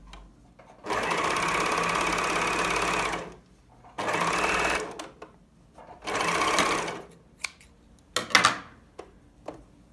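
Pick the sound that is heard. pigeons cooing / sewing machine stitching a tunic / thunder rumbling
sewing machine stitching a tunic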